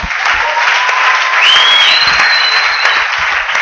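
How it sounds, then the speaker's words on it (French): A church congregation applauds loudly and steadily for several seconds, a dense wash of clapping with a crowd murmur and faint sustained tones beneath it. "Applaudissons fort."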